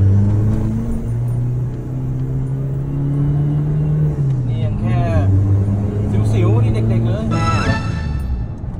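Diesel pickup engine revving as the accelerator is pressed, a close low rumble that climbs and falls in pitch several times, with someone talking over it.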